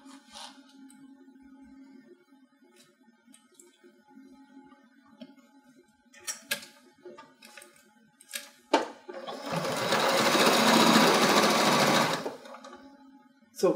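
A sewing machine stitches a zip bag with a larger stitch length, running in a loud steady burst of about three seconds after quiet handling clicks and faint voices.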